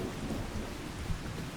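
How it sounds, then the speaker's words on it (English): Thunderstorm in the Farming Simulator video game, with steady heavy rain and low rolling thunder filling the scene, including a brief louder rumble partway through, with no voices. "Probably not the best place to stand under a tree in a thunderstorm."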